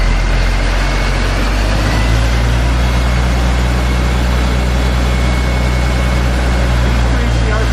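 A Darley fire pump engine runs loud and steady in a continuous low mechanical roar that holds without clear pauses, close up and dominating.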